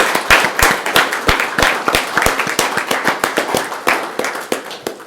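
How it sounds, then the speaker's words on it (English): Scattered hand claps from an audience at a county board meeting, a sparse, uneven burst of individual claps heard close and loud with no talk over it. "Please give him a round of applause."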